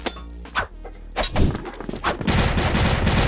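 Gunfire in the video game CrossFire, with a burst of sharp shots and thuds followed by sustained rapid fire that fills the last second of the clip.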